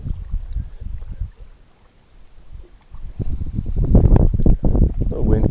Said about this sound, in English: The wind comes in from time to time.